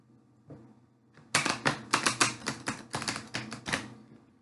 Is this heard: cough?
no